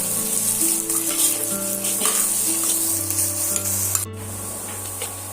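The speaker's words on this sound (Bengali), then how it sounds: "এবার আমি কুচুনো পেঁয়াজগুলো এই তেলের মধ্যে দিয়ে দিলাম" Chopped onions sizzle steadily in hot oil under soft background music; the sizzle carries on through a brief sharp cut near the end.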